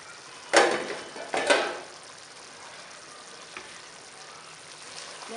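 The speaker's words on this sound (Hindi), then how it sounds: "इसे ढककर 1 से 2 मिनट पकने देंगे, मीडियम लो फ्लेम पर" Fish curry simmers under a lid on a medium-low flame, giving a faint, steady sizzle with two short, louder bursts of hissing near the start, then settling into a quiet bubbling.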